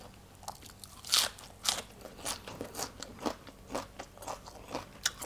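Crispy food brought from Maha Sarakham is chewed up close during a Thai meal, with a steady series of loud, crunchy bites and crackles and no talking.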